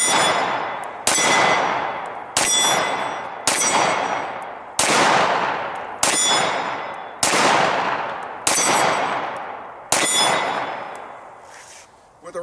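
Tara TM-9 pistol shots ring out on an outdoor range, about nine loud, evenly spaced single reports, each followed by a long ringing decay.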